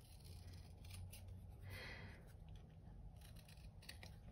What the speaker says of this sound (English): So all these little details are gonna be cut out of your cardboard paper.